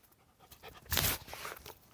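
A rescued dog from a village in Ukraine's Donetsk region pants close to the mic, a steady run of quick breaths that swells into one louder, breathier burst midway and then settles back to a softer rhythm.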